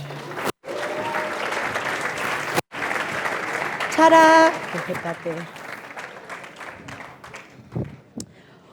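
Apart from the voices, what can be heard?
audience applause at trophy unveiling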